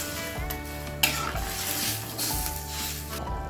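Bengali gathi kochu curry gravy simmering in a pan, a steady bubbling sizzle with the clink and scrape of a utensil stirring against the pan several times, close and fairly loud.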